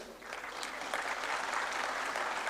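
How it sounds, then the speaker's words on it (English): Steady, dense applause from a conference audience at a petroleum technology congress, moderately loud and sustained across the whole stretch with no voices over it. "We can clap a bit louder."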